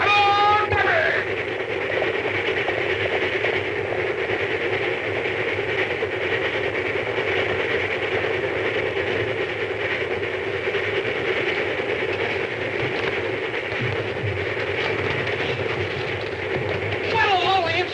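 A 1939 western film scene with a train rolling steadily along the rails, a continuous rumble and rhythmic clatter running beneath the whole scene, with brief voices at the start and end.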